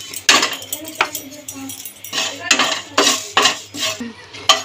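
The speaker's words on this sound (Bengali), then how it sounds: "এবার আমি খালি কড়াইয়ের মধ্যে জিরে, একটা শুকনো লঙ্কা একটু ভেজে নেব।" Cumin seeds and a dried red chilli dry-roasting in an empty wok, with metal utensil scrapes and clinks repeating in uneven bursts, fairly close and loud, with no talk over them.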